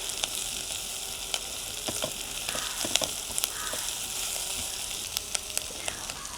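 Onion and a few green chilies chopped into small pieces sizzle steadily in a little tempering oil for an egg dal, a dense continuous frying hiss with scattered crackles and pops throughout.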